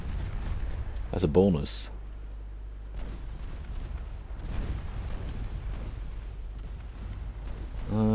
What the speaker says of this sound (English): And my torpedoes actually do strike the transports